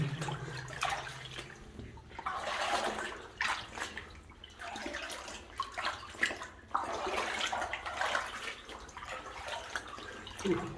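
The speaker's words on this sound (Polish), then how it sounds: "Przy końcówce tej odnogi to wody jest trochę wyżej niż kolana." Steady sloshing and splashing of water as someone wades through knee-deep water inside an exploratory uranium ore adit, with rhythmic surges from each step, close and continuous for the whole stretch.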